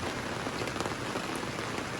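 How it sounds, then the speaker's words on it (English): Heavy rain pours down in a dense, steady hiss of drops drumming on surfaces, close and loud throughout, with no talking. "it just starts downpouring"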